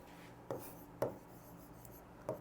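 Short, scratchy chalk-like strokes on a classroom board during a grammar lesson, three separate quiet scrapes spaced apart against a hushed room with no talking.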